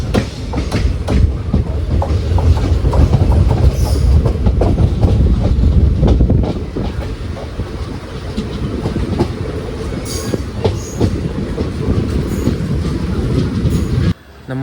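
A Trivandrum North–Nagercoil passenger train rolls into Kuzhithurai railway station, its loud wheel clatter and rumble easing partway through to a quieter rolling sound with faint squeals, and the noise cuts off abruptly at the end.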